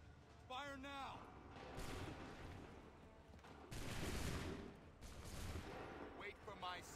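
Musket volleys in the video game Assassin's Creed III, broad crashing bursts of massed gunfire rolling out in waves, fairly distant and faint, with shouted voices between them.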